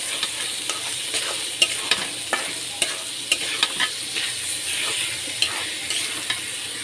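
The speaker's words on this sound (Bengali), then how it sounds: "এই যে আদাটা ভাজা ভাজা করতেছি" Rice frying in a pan with ginger paste for pulao, stirred steadily with a spoon that scrapes and taps against the pan at irregular intervals over a constant close sizzle.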